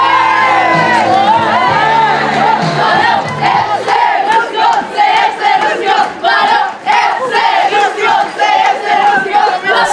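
A crowd at a youth football prize ceremony cheers and shouts loudly, then breaks into rhythmic pulsing chants and whoops, with a strong, dense swell of many voices.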